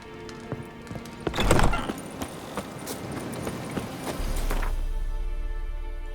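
Horse hooves clip-clopping in The Witcher 3, a steady rhythmic trot of close hoofbeats on ground, with a louder cluster early on and a low rumbling bed joining in the final seconds.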